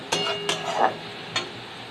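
A spiced filling for stuffed spiny gourd, seasoned with chilli powder, is stirred down in a pan: three crisp spatula scrapes against the metal over a soft, low sizzle, close and clear.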